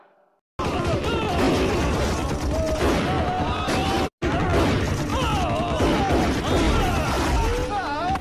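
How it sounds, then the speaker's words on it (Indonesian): A dense, loud burst of film gunfire from an armed shootout runs almost continuously with crashing impacts under a dramatic score, and a narrator talks over it throughout. "disambut dengan tembakan dari Abbas, Ali dan pasukannya yang membuat pasukan Akram satu persatu tewas"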